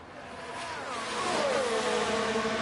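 Mercedes AMG Formula 1 racing car engine at Montreal in F1 Manager 23, a continuous whining engine note whose pitch dips and bends midway, then holds steady and grows a little louder, with no talk.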